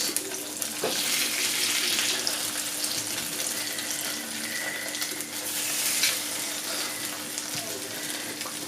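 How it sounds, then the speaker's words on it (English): Cakes frying in oil with a steady, hissing sizzle, close and fairly loud, with faint clinks and a low background hum throughout. "You fry till a bit brown and then you turn them over."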